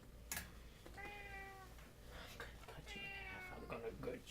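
A cat meows twice in drawn-out, wavering calls, close and clear, with faint clicking in the background.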